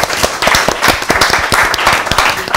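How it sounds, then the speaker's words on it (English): An audience claps and applauds at the end of a talk, a dense, steady burst of many hands clapping at close range. "give yourselves a round of applause for today."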